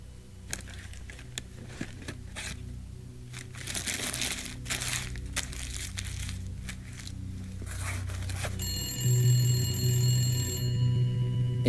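A telephone rings insistently near the end, a bright electronic trill that rises over earlier crinkling and rustling handling noise.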